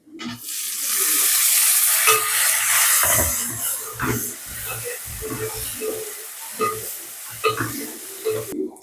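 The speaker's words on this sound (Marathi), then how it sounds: "कांदा मस्त एकदम ब्राऊन झालाय बघा आता मी याच्यात टॅमॅटो टाकेल" Tomatoes land in browned onions frying for a spicy village-style chicken curry, with a loud close hiss and sizzle followed by rhythmic stirring and scraping in the pan, without speech.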